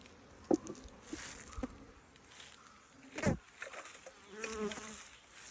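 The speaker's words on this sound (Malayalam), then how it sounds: "ഈച്ച നന്നായിട്ട് കുത്തുന്ന സമയമാണ് അത്" Honeybees buzz around an opened hive during a honey harvest, a faint continuous insect hum with a few sharper bursts and knocks as frames are handled nearby.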